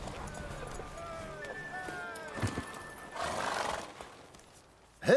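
In a horse race in the video game The Witcher 3, a horse gallops and lets out several loud, wavering neighs over pounding hoofbeats, with a burst of rushing noise near the end and voices in the background.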